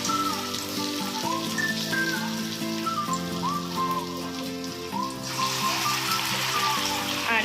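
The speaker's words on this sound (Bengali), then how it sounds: "কড়াইতে তেল গরম হয়ে গেছে এবারে একটু একটু করে এই ব্যাটারটা দিয়ে দিচ্ছি" Pointed gourd fritters in batter sizzle and crackle steadily in hot oil in a kadai, a dense continuous frying hiss heard up close with no talk, while harmonic music plays over it.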